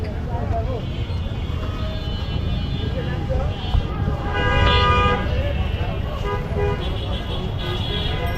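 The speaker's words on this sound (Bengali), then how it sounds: "শুধু হর্ন আর হর্ন আর হর্ন আর গাড়ির জ্যাম দেখতে পাচ্ছেন" Car horns toot repeatedly in a night traffic jam in Dhaka, layered over a constant rumble of idling vehicles and road noise, with voices in the background.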